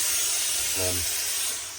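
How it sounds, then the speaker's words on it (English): A steam iron hisses as it steams a Lock & Co Homburg hat during restoration, a loud continuous breathy spray with a brief low hum partway through, close up with no talk. "So what I'm going to do now is introduce a bit of steam."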